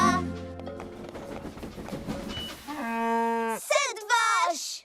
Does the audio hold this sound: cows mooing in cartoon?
yes